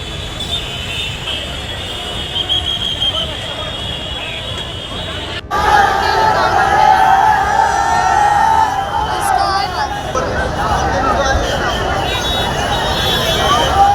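An angry crowd gathers on a road in Govandi after an accident, with loud overlapping shouting and babble alongside traffic noise. It grows louder partway through.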